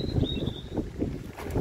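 Wind blowing outdoors and buffeting the microphone in uneven low gusts, loud and close, with a faint thin whistle early on and no speech.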